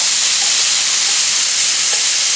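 Meat stir-fried in a pan with garlic sauce, cooked to medium-rare, giving a loud, continuous hissing sizzle with a bright spitting texture that stays steady throughout.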